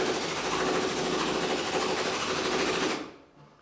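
Power driver unscrewing screws on a pig trailer, a loud rapid buzzing rattle running for about three seconds before cutting off abruptly.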